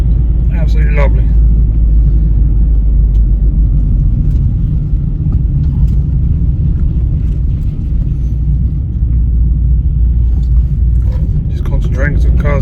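A Vauxhall Meriva B engine hums and rumbles steadily from inside the car on its first test drive after a front-end rebuild, with people talking over it.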